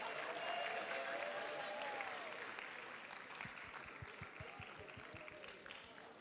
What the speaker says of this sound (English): Let's clap it up for our first graders.